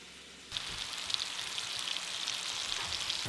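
Spanish mackerel sizzles in butter in a hot pan, the frying starting abruptly after a brief quiet moment and then holding as a dense, even crackle close by.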